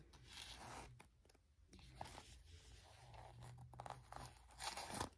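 A zipper is pulled along the zip pocket of a Coach bifold snap wallet, a soft close scratchy rasp with faint crinkling and handling noises, quiet and continuous with brief pauses.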